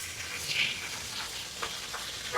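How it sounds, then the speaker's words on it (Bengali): Tengra fish sizzle quietly in hot oil on a clay stove, a soft steady crackle broken by a few brief scrapes and clinks as the fish are flipped, ending in a slightly louder knock. "এখন আমার মাছগুলা খুব সুন্দর করে এক সাইড ভাজা হয়ে গেল। আমি মাছটাকে জাস্ট উল্টিয়ে দেবো।"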